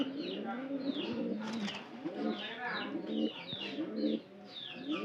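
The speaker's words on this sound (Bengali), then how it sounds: "এই কবুতরের ভিতর থেকে গ্যারের একটা শব্দ" A pigeon with a respiratory illness close by makes repeated low, throaty coos with a rough, raspy, wheezing edge, several in a row with brief pauses between.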